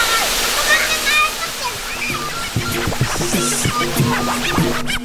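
Twin waterfall at Kampung Anyar, a spring-fed pool where swimming is allowed, pours in a steady broad roar of falling water, close and loud throughout, with birds and faint voices mixed in.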